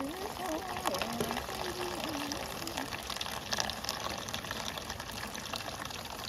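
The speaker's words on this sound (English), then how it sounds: "So this is a rainfall simulator, relatively simple." A simple rainfall simulator sprays water onto soil, giving a steady hissing patter and splash throughout, with a faint whistling tone early on.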